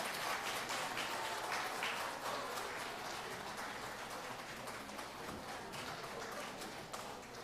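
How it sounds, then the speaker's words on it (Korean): A church congregation applauds at a Sunday service to welcome a guest, with dense, continuous clapping that holds steady for several seconds at moderate volume. "우리 박수로 환영할까요?"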